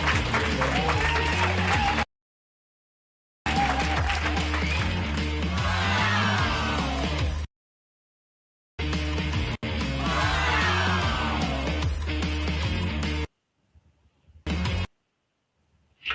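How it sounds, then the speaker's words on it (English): Live audience at a show breaking into bursts of applause with yells and whoops, loud and sustained between abrupt silent gaps, the crowd noise blending with music and a host's voice. "Come on, folks, let's hear that applause."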